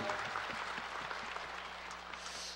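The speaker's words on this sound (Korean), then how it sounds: "우리 큰 영광의 박수를 하나님 앞에 올려드리겠습니다" Congregation applauding during a Lent church service: a steady wash of many hands clapping at even loudness throughout, fairly quiet and without speech.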